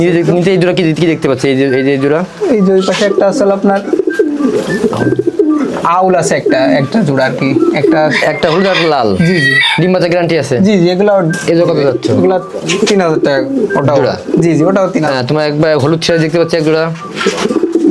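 Pigeons cooing among fancy chickens at a poultry sale, soft repeated coos running throughout under near-constant conversation between several people.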